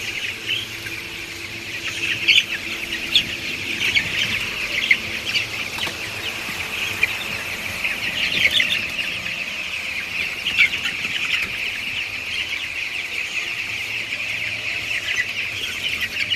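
Flock of chickens clucking and calling together after waking at a poultry farm, a dense continuous chorus of overlapping clucks and chirpy calls at steady loudness throughout, with no talking.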